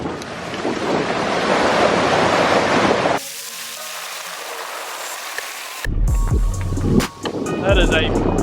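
Water and wind roar as a 4WD fords a long stream crossing on the Waimakariri River, loud broadband rush first, then quieter rumble, then engine and splashing return with muffled sounds.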